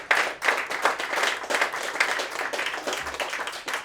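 An audience claps at a 9/11 service celebration event, a dense burst of applause that starts loud and then gradually thins out toward the end.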